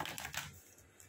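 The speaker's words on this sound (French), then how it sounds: "Je vais les brasser un peu plus les cartes quand même" Playing cards are shuffled in a few quick, soft riffling bursts close up, then taper into quiet handling, with no talking.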